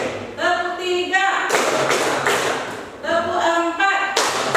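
A classroom of students claps in counted rhythm: short noisy bursts of group clapping alternate with a voice counting aloud between them.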